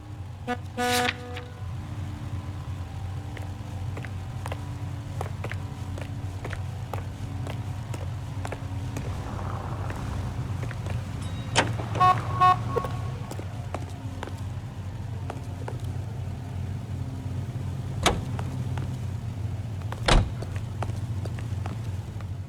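A car in the video game L.A. Noire, set in 1947, drives with a steady low engine drone throughout, broken by occasional faint horn toots and small clicks.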